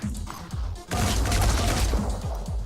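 Gunfire in the tactical video game Phoenix Point as a shot hits an enemy's arm, heard as a loud burst of rapid shots with a booming rumble that follows, then sharp cracks trailing off.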